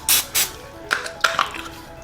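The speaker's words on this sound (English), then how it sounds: "you can, in fact, put a little bit more non-stick spray" Two short hissing bursts of non-stick cooking spray hit a pan, loud and close, followed by faint clinks of cookware.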